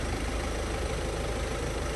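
A Ford Fiesta Mk7 facelift 1.5 TDCi diesel engine idles steadily nearby, a constant low rumble with even knocking texture and no voices or changes.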